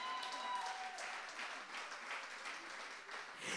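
A church congregation applauds to acclaim God, a steady wash of many hands clapping at moderate level with no clear gaps.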